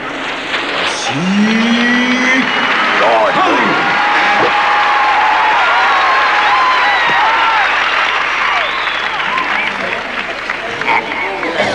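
Applause from an audience greeting a performer as they come on, loud continuous clapping with crowd noise and voices over it, and a few whistles rising above.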